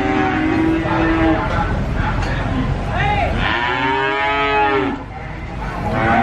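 Limousin cattle moo loudly and repeatedly at a livestock market, long drawn-out bellows with rising and falling pitch overlapping one another against a steady background of crowd noise.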